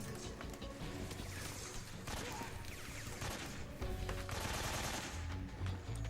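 AK rifle fire in Metal Gear Solid 3: Snake Eater, rapid continuous bursts of automatic gunshots with sharp crackling reports, loud and close, over dense game noise and occasional talking.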